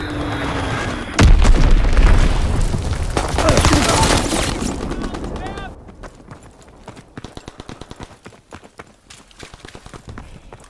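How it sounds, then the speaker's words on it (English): A loud enemy bomb blast erupts early in a Call of Duty WWII battle, followed by a long rumbling roar that fades into sharp, irregular gunfire cracks, with voices speaking now and then. "Enemy bomb incoming. Get to cover."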